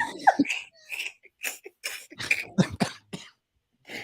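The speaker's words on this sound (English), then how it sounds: "You made me snort and cough all at the same time." A person coughs and snorts in quick, uneven bursts mixed with breathy laughter, close up, then falls quiet near the end.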